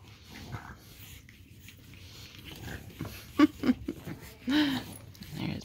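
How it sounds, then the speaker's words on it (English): Seven-week-old puppies at play, racing around, give off a few short yips and whimpers with soft scuffling and chewing-like noises, fairly quiet and scattered across the moment. "we're here with Puppies, who are 7 weeks old today, and they are racing out their energy"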